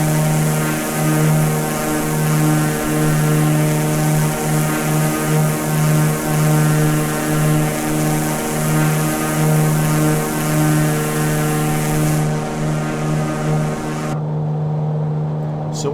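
Steady propeller drone of a Carenado Mooney M20 Ovation single-engine aircraft climbing in Microsoft Flight Simulator 2020, a constant engine hum with a low rhythmic pulsing throughout, cutting off abruptly near the end.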